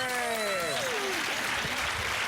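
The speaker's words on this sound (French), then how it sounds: "Applaudissements pour Jacques" Studio audience on the French game show Une famille en or applauding a contestant, a steady wash of clapping from start to finish, with a descending musical jingle over it at the beginning.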